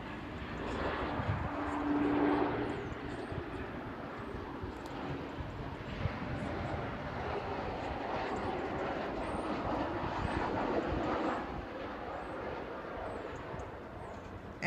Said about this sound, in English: it's an Emirates ERJ195 of Flybe.